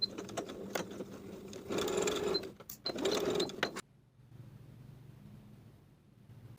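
A sewing machine stitches a short section of a shorts crotch seam below the notch, with quick start-stop bursts and backstitching, then falls silent to a low hum.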